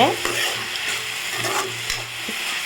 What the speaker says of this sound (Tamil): தக்காளி உப்பு வதங்கிறதுக்கு நம்ம கொஞ்சமாக உப்பு சேர்த்து நல்லா வதக்கிக்கோங்க